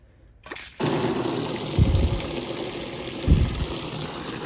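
Water starts running at a cattle feedlot, a steady broadband rush of flow that kicks in after a brief thud and continues without pause, with a couple of low bumps partway through; nearby and moderately loud, with no voices.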